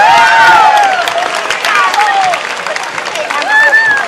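A crowd at an outdoor parade of flags in Cleveland applauds and cheers in a steady wash of clapping, with whistles and voices rising over it throughout.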